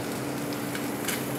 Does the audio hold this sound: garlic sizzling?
yes